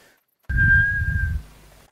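A person whistles a single sustained steady note into a stream microphone, close and slightly distorted, with breathy low rumble beneath, then trails off.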